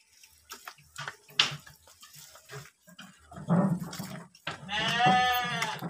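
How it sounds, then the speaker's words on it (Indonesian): A goat bleats from a neighbouring pen in a rural village setting, heard among scattered shuffling and thumps; a long, wavering bleat rings out clearly near the end. "ada kambing tuh, kambingnya di sana tuh, kambingnya di kandang sebelah"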